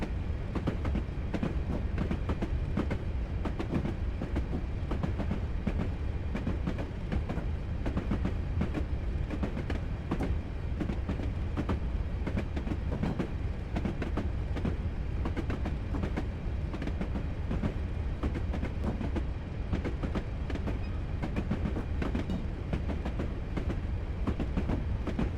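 A train on the West Highland Line in a railway simulator game rumbles steadily with continuous rolling wheel noise and faint clickety-clack, a constant loud drone throughout.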